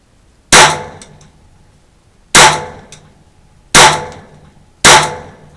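Four loud, sharp gunshots from a Ruger 22/45 Mark III .22 pistol, unevenly spaced about one to two seconds apart, each a crisp crack with a short ringing decay, close and alone.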